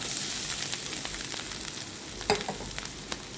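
A coconut mixture for chutney fries in a pan with a steady sizzle, broken by a few sharp crackles and spatters at close range.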